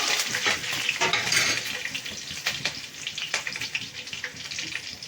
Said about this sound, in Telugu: బాగా వేగిన తర్వాత కరివేపాకు వేసుకుంటాము